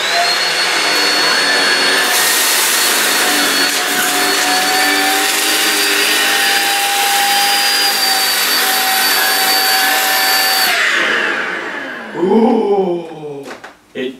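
A Shark Rocket Complete Duo Clean (HV380UKT) cordless vacuum runs loud and steady with a high motor whine while picking up dirt, grit and flour, then winds down near the end with a few clunks.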